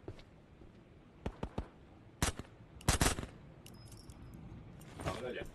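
Several sharp gunshots ring out in the VR game Ghosts of Tabor, spaced irregularly and moderately loud, with a couple of quieter distant reports between them.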